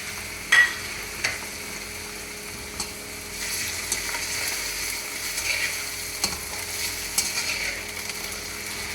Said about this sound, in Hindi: चिकन को कलर आने तक हम इसको पकाएंगे।